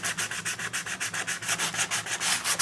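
Sandpaper scrubs back and forth across altered book pages in quick, even strokes, about six per second, loud and close with no voices.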